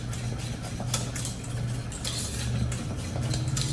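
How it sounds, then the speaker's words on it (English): A utensil stirs pastry cream in a pot, giving soft scraping and occasional light clinks against the metal over a steady low hum from the stove. "Make sure you stir around in the corners, all over the bottom."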